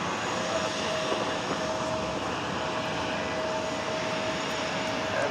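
An Airbus A330 jet rolling down a runway at JFK airport for takeoff, heard as a steady, loud, continuous engine roar with a faint high whine holding throughout.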